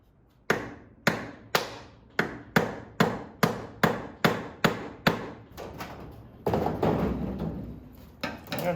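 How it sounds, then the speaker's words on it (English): Loud, evenly spaced metal hammer blows on a small-block 327 engine manifold, about a dozen in steady rhythm, then a denser clattering scrape near the end. "Let me get a hammer."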